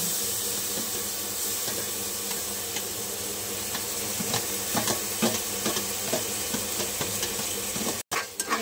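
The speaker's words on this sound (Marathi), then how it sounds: "अशा प्रकारे हलवून घेतलेलं आहे मिक्स करून" Ground coconut paste is stirred into a crab curry in a pan, giving a steady low sizzle with scraping stirs that grow busier toward the end, with a brief break near the close.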